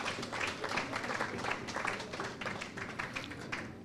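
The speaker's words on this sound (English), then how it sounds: "give yourself a round of applause" Steady, moderately loud clapping from the crowd at a political party chapter launch event in Florida, a continuous patter of many hands that lasts the whole stretch.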